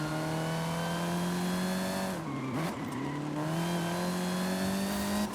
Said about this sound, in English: This thing's not bad. This car, I can throw it around a little bit.